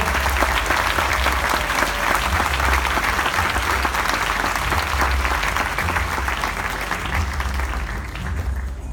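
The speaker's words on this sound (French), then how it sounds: "On peut l'applaudir." Sustained audience applause at a conference in Castelmaurou, loud and dense with many hands clapping steadily for about nine seconds before easing slightly at the end.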